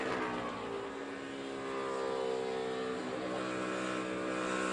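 Onboard Dale Earnhardt Jr.'s NASCAR race car at Michigan in the 2012 Quicken Loans 400, a loud, continuous high-revving V8 roar with slowly rising and falling pitch.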